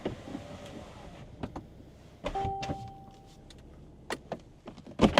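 The folding roof of a 2023 Mercedes C43 AMG four-seater convertible, Night Edition, runs with a quiet electric motor whine set between scattered mechanical clicks and clunks, and a few louder knocks come near the end.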